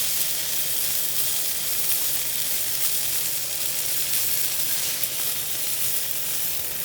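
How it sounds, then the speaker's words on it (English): Veal saltimbocca wrapped in prosciutto sizzles in a hot pan, a loud, steady, close frying hiss with crackling spatter that holds constant throughout, with no voices over it. "Push down on it, give it a little sizzle"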